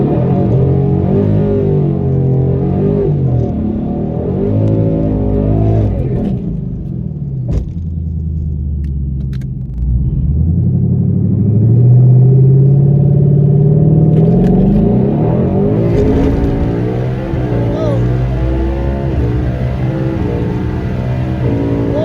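A Hellion twin-turbo Mustang making about 800 wheel horsepower on high boost launches down a quarter-mile strip, its loud engine roaring and climbing through gears with a brief lull between shifts, then a rising scream.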